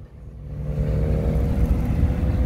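A red Toyota Corolla with a downpipe exhaust approaches and rumbles past, its engine noise swelling from quiet to a steady, loud drone.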